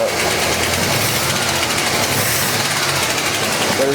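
Close, loud engine of a 1984 Mercury Capri idling continuously with a rough, slightly uneven rumble from a slight stumble.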